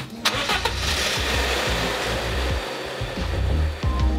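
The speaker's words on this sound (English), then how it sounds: "Then start the car." A BMW E36 engine cranks and fires up, then settles into a loud, steady idle with a few brief knocks over the running hum.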